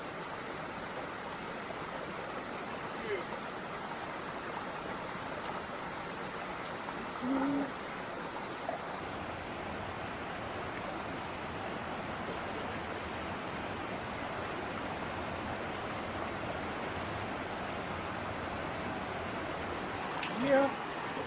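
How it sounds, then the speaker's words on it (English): A steady broadband rush of creek water flows at a crossing in North Carolina's Nantahala National Forest, constant and fairly loud throughout, with a brief faint voice near the end. "We've dropped back down to the several creek crossings to finish up our trek."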